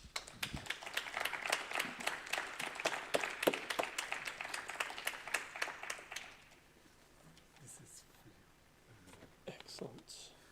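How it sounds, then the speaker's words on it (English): Conference audience applauding after a keynote introduction, a dense burst of clapping for about six seconds that then stops, leaving quiet room sounds and a few faint noises. "I hand over the floor to you with a big applause."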